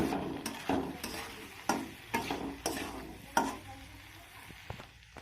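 Chili paste frying in a pan over low heat for an egg and soya chunk curry, soft sizzling beneath a series of sharp, regular scrapes of a spoon stirring the mixture.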